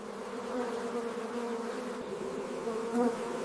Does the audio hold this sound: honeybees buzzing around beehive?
yes